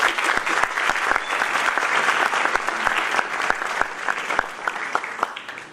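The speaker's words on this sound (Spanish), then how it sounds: "Recibámoslos con un fuerte aplauso." Audience applause at a closing panel in Bogotá, a steady wash of many hands clapping close and loud, with sharp individual claps standing out, sustained without letup throughout.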